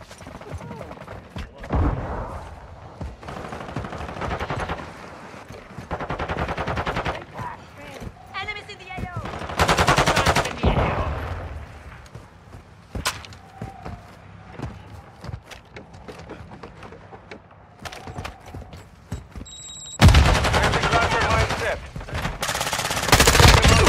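M4 rifle gunfire in a shooter game set in Koro Village, coming in scattered bursts of loud close shots between quieter gaps, with mechanical clicks and footsteps, and a voice talking over parts of it.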